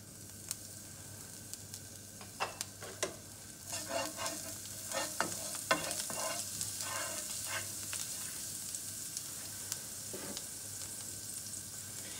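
Thyme and rosemary hitting hot fat in a frying pan give a soft, steady sizzle with scattered crackles and pops, bursting more densely in the middle stretch and fading back to a quiet hiss.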